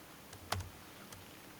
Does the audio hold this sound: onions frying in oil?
no